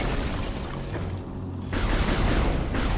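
Weapon fire in Metroid Prime 3: Corruption comes as a dense run of blasts, with a brief lull in the middle before the shots crowd back in.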